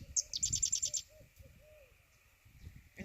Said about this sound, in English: can you hear the great horned owls hooting out there?